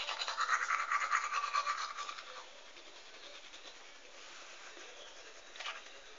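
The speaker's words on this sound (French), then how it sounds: "je me brosse les dents" Teeth being brushed with a toothbrush, quick close scrubbing strokes for about two seconds, then quieter intermittent brushing and a brief rinse-like sound.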